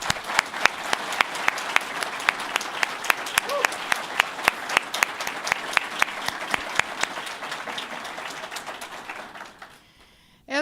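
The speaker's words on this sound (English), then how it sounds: "Please, another round of applause for Dave Kaufman." An audience at a university presidential announcement event claps steadily for a retiring leader, with dense applause and sharp individual claps standing out before the clapping fades near the end.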